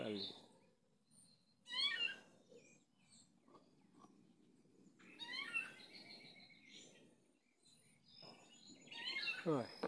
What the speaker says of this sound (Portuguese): É sabiá branca